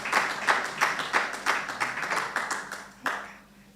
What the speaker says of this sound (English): So yes, you can applaud for that.